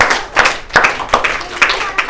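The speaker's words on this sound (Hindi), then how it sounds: "हमने अपने ही लिए तालियां बजाई है" Group of students clapping for themselves in a classroom, a short burst of quick irregular claps close by, rising and falling in several waves over about two seconds.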